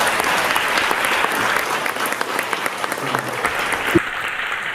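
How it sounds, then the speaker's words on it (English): An audience applauds at a talk with Damon Dash, a dense, steady clapping from a sizable crowd that carries on through most of the stretch, then thins and drops away near the end with a faint voice. "I think you deserve some applause"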